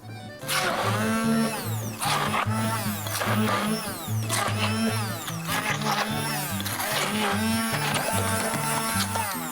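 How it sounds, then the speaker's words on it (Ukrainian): A blender whirs steadily, pureeing hot cooked pumpkin for risotto, loud and close with a continuous motor hum and rising, falling pitch as the blade churns, no talking heard. "Готуємо блендер відразу."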